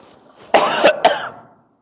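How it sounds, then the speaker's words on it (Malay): A pair of harsh, close coughs in quick succession, the second shorter, followed by a breathy tail and then quiet. "Batuk"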